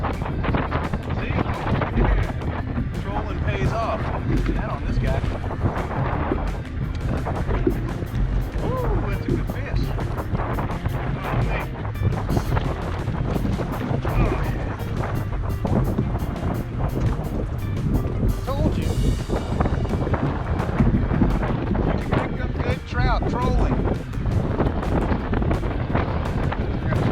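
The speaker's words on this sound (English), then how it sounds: "windy weather right here" Strong wind buffeting the microphone on open water while kayak fishing, a loud continuous roar with waves lapping against the boat, and people talking throughout.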